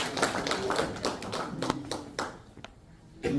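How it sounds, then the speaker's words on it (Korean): Scattered clapping from a small group at a Korean veterans' policy rally, uneven claps that thin out and fade toward the end, with a brief pause before a last clap. "다시 한번 큰 박수 부탁드리겠습니다."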